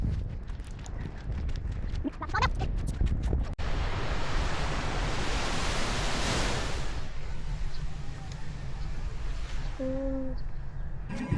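Waves breaking on the shore at a beach resort in Zambales, a steady roar of surf with a swelling crash in the middle, mixed with wind and faint voices.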